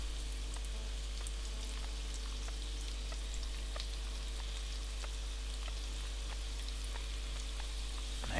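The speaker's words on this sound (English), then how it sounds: "once we've got it hot enough we add first of all the onions" Onions dropped into hot oil in a pan for a chorizo pie filling, giving a continuous even sizzle with scattered tiny pops and crackles over a low steady hum, moderately faint and without speech.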